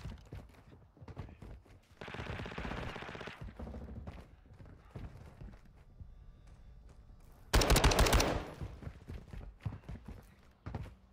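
Automatic STB 556 rifle firing in a video game, with a sustained burst around two to three seconds in and a louder, denser rapid volley near the eight-second mark, separated by quieter gameplay sounds.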